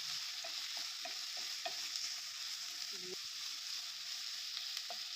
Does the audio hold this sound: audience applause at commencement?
no